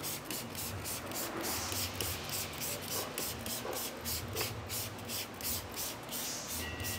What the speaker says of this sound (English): what I'll do here is I'll spray the chemical right on the wheel.